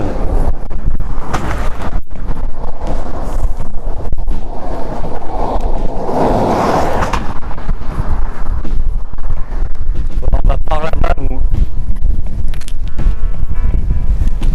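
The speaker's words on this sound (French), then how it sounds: "Il y a un vent de fou là." Strong wind buffets the microphone of a phone on a DJI Osmo Mobile 3 stabiliser outdoors, in a constant loud roar, gusting and rumbling throughout with no let-up.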